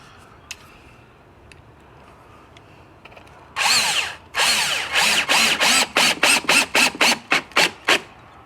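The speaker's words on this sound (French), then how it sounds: "Quand on le visse, là, on le voit que ça rentre dans le solide." A power drill drives 3.5-inch screws into solid wood, first in a long steady whine, then in a rapid series of short, loud bursts that stop and start, close by and with no talk.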